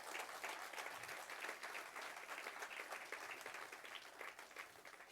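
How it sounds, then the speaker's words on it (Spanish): A congregation at a men's church conference claps loudly and continuously in praise, a thick, even roar of applause with scattered crowd noise mixed in from start to finish. "Dale fuerte el aplauso a Dios."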